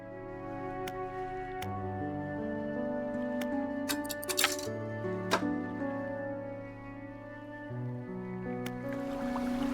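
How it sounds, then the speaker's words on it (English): A twin-propeller boat engine in a fishing video game drones steadily with layered tonal hum, joined by brief splashy bursts of water and a few sharp clicks partway through. "This engine is outfitted with a dual propeller system."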